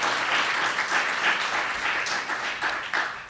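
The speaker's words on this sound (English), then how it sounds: "A nice round of applause again for Vernon Tatum." Audience applause at a Veterans Day ceremony, a dense, fairly distant wash of many hands clapping that stays steady for a few seconds, with no talking over it.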